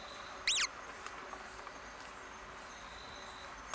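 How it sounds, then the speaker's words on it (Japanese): An Emma field cricket chirps in a steady high-pitched pulsing trill outdoors on a mountain in Okinawa, moderately close, with one brief sharp chirp from another creature near the start. "エンマコオロギかな。"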